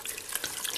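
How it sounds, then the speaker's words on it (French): Water poured from a tap over food to cover it, a brief steady rush and splash lasting under a second, close and fairly quiet, with no talking. "Je vais couvrir d'eau."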